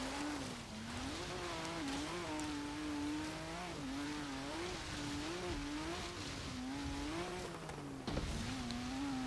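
A 2015 Radical RXC Turbo driving off-road in Forza Horizon 3, its engine droning steadily as the revs rise and fall in repeated waves, with a brief jolt near the end.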